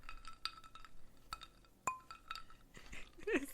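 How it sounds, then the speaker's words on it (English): A drinking glass flicked for a toast gives several faint, scattered clinks and pings over a noisy background, with one sharper ring near the middle. "Just flick the glass."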